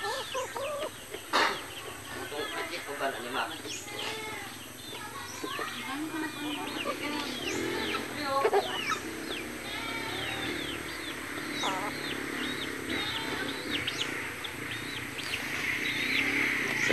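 Red junglefowl chickens cluck and call in a busy outdoor yard, many overlapping bird calls near and far over steady background noise, with a voice talking at times.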